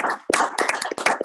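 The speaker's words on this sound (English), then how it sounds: "round of applause." A small group claps at a county board meeting, a brief, close scatter of uneven hand claps with no talking over it.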